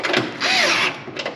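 A power tool whirs in short bursts while tightening nuts on a Cadillac CTS-V conversion kit, with a rising and falling motor pitch, up close and with no talk.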